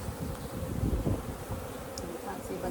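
Honey bees buzz in a dense, close drone during a hive inspection, the hum swelling and wavering around the open colony with a few soft handling noises.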